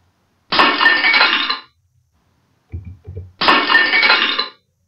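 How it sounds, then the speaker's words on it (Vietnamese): Drinking glasses and bowls shatter with a bright crash, twice, separated by a few low clunks; loud and close. "Âm thanh này được phát ra từ những chiếc ly, chiếc chén bị vỡ đúng không nào?"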